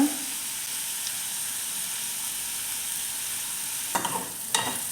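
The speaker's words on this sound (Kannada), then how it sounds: "ಇದಕ್ಕೆ ನಾನು ಸ್ವಲ್ಪ ಉಪ್ಪು ಹಾಕಿಬಿಟ್ಟು ಫ್ರೈ ಮಾಡ್ತೀನಿ" Modangalakai frying with salt in a pan: a continuous, bright sizzling hiss at close range, with two short bursts of stirring scrapes near the end and no talking.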